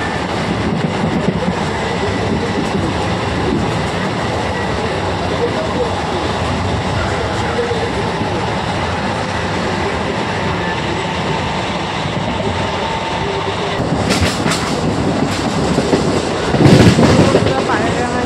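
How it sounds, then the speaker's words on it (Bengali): Inside a moving train, a continuous loud rumble and rattle of the carriages on the rails fills the scene, with a few sharper clatters and knocks toward the end. "ট্রেনে আছি, নানান আওয়াজ হচ্ছে,"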